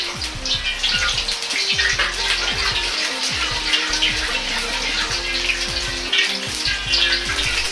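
Oil heating in a hot, preheated Chinese wok gives a steady, fairly loud hiss and crackle, continuous over several seconds with scattered sharper pops and scraping clicks, and no voices.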